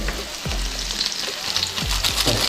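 Yippee noodle masala and sautéed onions fry in a pan with a steady close sizzle, and a few low scraping strokes from stirring come through under it.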